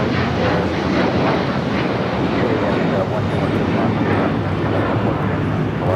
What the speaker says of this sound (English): This is Alaska Airlines 1334 taking off to Belize City on the 737-900ER